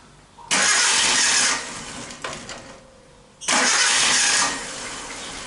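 A Suzuki Katana motorcycle engine with a fouled, misfiring spark plug is cranked twice on the starter, each attempt a loud, close, one-second whir that drops into a rough low idle between tries.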